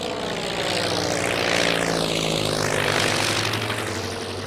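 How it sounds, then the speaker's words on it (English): A Catalina flying boat propeller aircraft drones loudly in flight, a steady piston-engine roar with pulsing propeller beat and a sweeping pitch shift as it passes close, continuous for the whole stretch. "a fleet of Catalina flying boats be used to link Australia to Britain via Ceylon"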